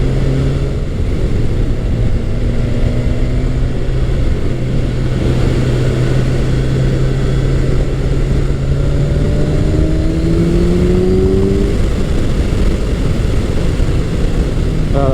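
Steady, smooth engine drone of a 2020-2024 Kawasaki Ninja 1000SX four-cylinder sport-touring motorcycle on the road, holding a constant note with gentle rises and falls in pitch as it accelerates, close and continuous throughout.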